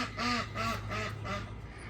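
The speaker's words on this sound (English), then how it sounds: "get some ducks. They're a lot of fun." Ducks quack nearby in a quick run of four loud, evenly spaced nasal calls, then fall quiet, with no talking over them.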